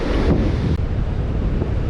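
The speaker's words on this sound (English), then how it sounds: "there's hardly any waves breaking except for this one right now" A wave breaks on a shallow Oregon beach, a steady close wash of surf mixed with heavy wind buffeting on the microphone, continuous and loud with no speech.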